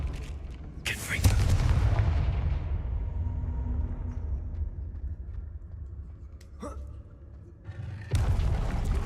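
A Confringo fire spell blasts in the Hogwarts Legacy video game, with booming impacts opening and closing a rumbling stretch of low game ambience.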